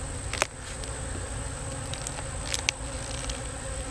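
Honey bees hum around a freshly opened hive, a steady, fairly faint buzz with a few light knocks and clicks on top, no voices.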